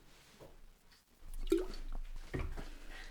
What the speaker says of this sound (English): I'm gonna drink water.